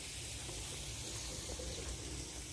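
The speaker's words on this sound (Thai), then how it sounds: "เปิดน้ำใส่อยู่ เปิดน้ำใส่อยู่ขุดไปเรื่อยๆ" Water runs from an opened tap into a hole being dug in a home vegetable garden, a steady faint hiss and trickle with no other sounds.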